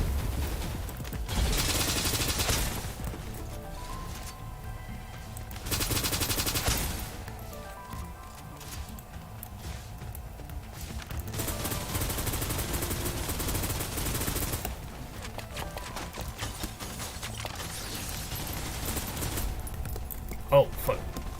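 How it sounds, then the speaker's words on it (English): Several turrets opening fire in Snowbreak: Containment Zone, with loud bursts of rapid gunfire in long stretches broken by brief lulls, set against mechanical game noise while a person talks over parts of it. "Oh, that's a turret. It's a few turrets actually."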